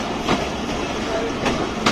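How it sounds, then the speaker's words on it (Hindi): A passenger train on its approach to Nankana Sahib railway station in Pakistan, with a steady rolling rumble and faint rhythmic wheel clatter heard up close throughout, on the Ravi Express route from Lahore. "गाड़ी इस वक्त अप्रोच कर रही है ननकाना साहब रेलवे स्टेशन।"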